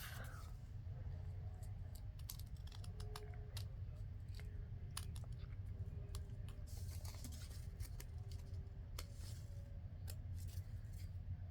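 Scissors snip through a paper envelope up close in a quiet room, several short crisp cuts scattered across the stretch over a low steady background hum.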